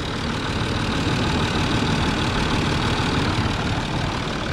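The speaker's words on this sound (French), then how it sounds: "on a un son fonctionnement moteur qui est nickel" A car engine idles steadily just after its first start, a dense, even running drone at close range with no talk over it, the motor sounding smooth and healthy.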